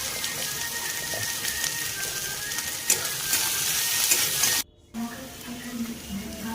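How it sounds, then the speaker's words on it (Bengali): Chopped onions with salt sizzle loudly in hot oil, a constant crackling hiss close by. It cuts out briefly near the end, then returns more quietly with a soft stirring scrape. "পেঁয়াজটাকে দিয়ে ভালো করে ভাজবো।"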